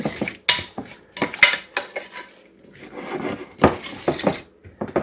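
A utensil stirs apple pie filling in a dish, giving close, irregular clinks and scrapes against the bowl, a quick series of sharp metallic taps with short quiet gaps.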